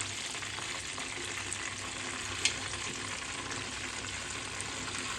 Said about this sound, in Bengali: সবগুলো চিকেন আমি এভাবে ভেজে নিয়েছি।